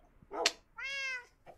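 A pet cat in Minecraft Sky Factory gives two meows, a short chirp and then a longer drawn-out tonal meow, clear and close with no talk.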